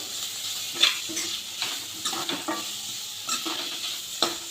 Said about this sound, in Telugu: గ్రేట్ చేసుకున్న ఈ క్యారెట్ తురుము వేసి బాగా మగ్గించుకోవాలండి